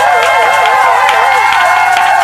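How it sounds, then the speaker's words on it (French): A church congregation loudly cheers and acclaims a prophet's anointing: a dense, sustained crowd roar with high wavering shouts or ululations rising above it, close and continuous for the whole moment with no pause. "J'aimerais qu'on acclame très fort l'onction de l'homme de Dieu"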